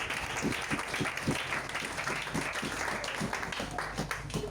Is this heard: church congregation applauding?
yes